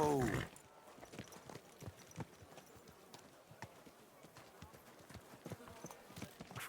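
In the medieval game Kingdom Come: Deliverance 2, horse hooves clip-clop in a steady walking rhythm, quiet and close, after a short voice at the start.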